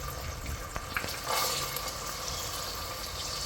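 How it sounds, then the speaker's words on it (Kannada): Peeled field beans (avarekalu) frying in a little oil in a home kitchen, giving a steady close sizzle with light stirring scrapes and a brief louder burst partway through, with no voices. "ಸ್ವಲ್ಪ ಎಣ್ಣೆಲಿ ಫ್ರೈ ಮಾಡೋಣ ಇಕ್ಕದ ಬೇಳೆನ."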